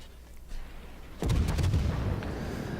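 Naval guns fire from warships in World of Warships, with the British cruiser Leander in the match: a heavy boom lands about a second in and then rumbles and crackles on. No one speaks.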